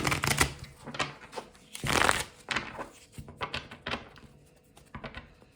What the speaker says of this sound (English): Let's pull some tarot cards on the situation.